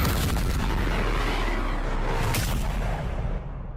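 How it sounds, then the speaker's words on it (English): A big rumbling explosion effect from the anime Konosuba fills the whole stretch, a loud sustained boom with a crackling roar that slowly fades toward the end. "I do know how the explosion sounds from Konosuba."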